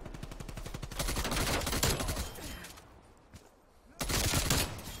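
Rapid bursts of KSP 45 submachine gun fire in Call of Duty Cold War, a fast rattling stream of shots with a brief pause before another burst resumes.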